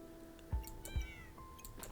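A cat meows during a Backpack Battles game: one short rising-and-falling meow, clear and close, between two soft low thumps, with no talk over it.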